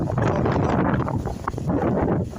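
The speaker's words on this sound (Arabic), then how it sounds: "يعني ريح قوي، ريح تقريبا 90 كيلومتر في الساعة." Strong wind of about 90 km/h buffets the microphone in a loud, continuous roar with gusty rumbling and no voices.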